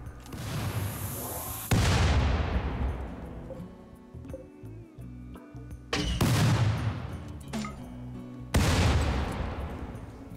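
Colonists fire their weapons in Rimworld, with three loud booming volleys spaced several seconds apart, each one sharp and then trailing off into a rumbling decay, with quieter scattered shots in between.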